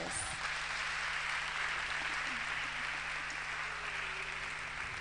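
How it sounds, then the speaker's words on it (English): Sustained, even applause from an audience at a university campus tour event in Ghana's Eastern Region, a dense and continuous hiss of many hands with no pauses. "Clap for my team, you guys."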